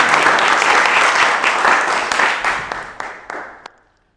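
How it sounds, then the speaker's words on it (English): A studio audience at a quiz show gives a round of applause, loud and dense at first, then tapering into a handful of isolated claps before falling silent. "Round of applause."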